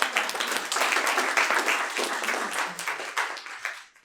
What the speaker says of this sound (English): So I'd like to please give a round of applause to our brilliant panelists today.